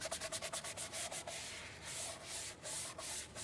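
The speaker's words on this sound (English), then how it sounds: "Make sure you scrub the mat really well and get into all the cracks and crevices of the mat and all the tight areas." Stiff bristle brush scrubbing a rubber all-weather floor mat, quick rhythmic back-and-forth strokes at first, then longer steady rubbing, soft and close with no voices.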